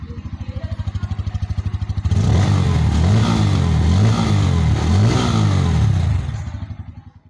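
Close, loud Bajaj Pulsar N160 motorcycle engine idling with a steady rapid beat, then revving repeatedly in rising and falling bursts before the sound fades out.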